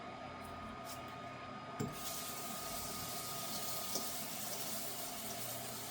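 Tap water runs steadily into a sink or bowl to soak broccoli, a continuous even splashing hiss with one brief knock partway through and no talking.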